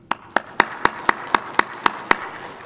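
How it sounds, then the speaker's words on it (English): Round of applause for panelists at an SC21 bioinformatics, HPC and AI panel, heard as a steady, evenly spaced series of about ten single claps, close and moderately loud, with no talk. "I'd appreciate if we give our panelists a round of applause."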